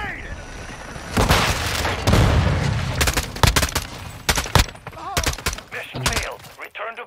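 Combat in Modern Warfare 2 as a grenade goes off: a heavy boom followed by bursts of rapid gunfire and sharp individual shots, with voices talking over the fighting.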